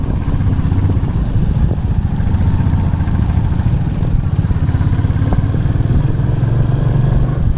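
A motorcycle engine runs steadily at a mid-range throttle on a winding mountain road from Siliguri toward Takdah near Darjeeling, with a continuous close rumble and occasional mechanical clatter throughout.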